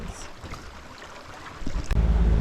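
A sailboat motoring at low speed on open sea during an ocean passage: a low engine drone under wind buffeting the microphone and the wash of water along the hull, growing louder toward the end; no talking.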